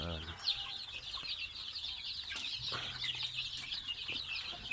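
Chickens on a small farm raising young birds, ducks and quail, clucking and calling steadily at moderate distance, with occasional wing flaps and no talk.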